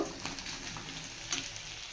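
Frying in a pan until browned, with a soft continuous sizzle and a few faint stirring clicks, close but quiet.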